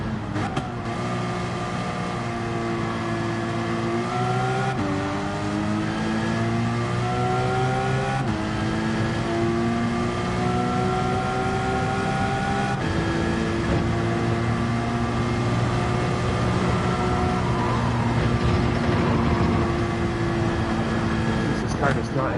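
Porsche GR4 race car engine in Gran Turismo 7 holds a steady, loud harmonic drone with rising and falling pitch as it accelerates and shifts through gears, continuous throughout, with speech over it.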